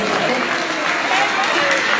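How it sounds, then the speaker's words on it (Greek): Steady applause from an outdoor festival crowd at a May Day wreath contest and prize giving in the Greek village of Aimonas, continuous and fairly loud throughout with a voice speaking over it. "Ένα χειροκρότημα."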